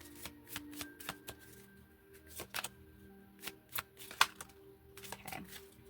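Angel cards being shuffled by hand produce a string of quick, crisp riffling snaps and taps, irregular bursts close by in an otherwise quiet room.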